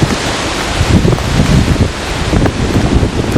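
Strong wind sweeps across an open old road, buffeting the microphone with loud, rumbling gusts that swell and ease without pause.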